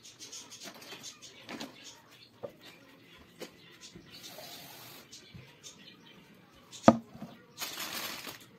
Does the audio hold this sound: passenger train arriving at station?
no